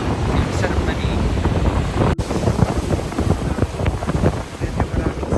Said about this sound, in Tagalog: Dito siya sobrang init, medyo windy nga siya.